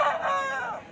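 A rooster tied among trees at the Saturday chicken market in Mamidada lets out a single loud, close crow, strained and drawn out, with no talk over it.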